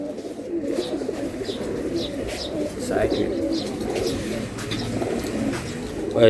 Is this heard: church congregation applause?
no